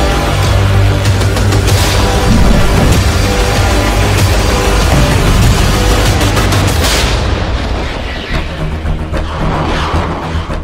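Missile and artillery strikes in the Russia–Ukraine war crash out as loud, dense rapid blasts and gunfire-like bursts, a relentless barrage that thins slightly toward the end, with no voices heard.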